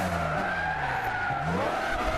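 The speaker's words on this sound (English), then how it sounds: "That was me just braking and turning, and it's making it slide." Car tyres skid and squeal under braking and turning in the Gran Turismo 6 racing game, a continuous wavering screech over the steady engine drone across the whole short stretch.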